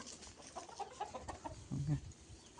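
Sonali chickens on a small Indian poultry farm cluck in a low, scattered murmur, with one louder, fuller cluck rising near the end of a short, quiet stretch.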